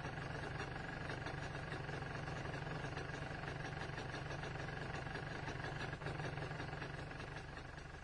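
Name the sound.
MZ ETZ 250 motorcycle engine idling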